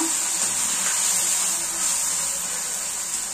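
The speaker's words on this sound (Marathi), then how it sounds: "शेंगदाण्याचे कूट पण टाकून मस्त फ्राय करून घेऊया।" Bitter gourd frying in a pan with crushed peanut powder, a continuous even sizzle with a bright hiss that holds steady throughout.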